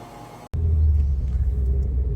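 Low, steady rumble of heavy road traffic on busy Kanakapura Road in Bengaluru, under an elevated metro line, starting loud and continuous after a brief cut.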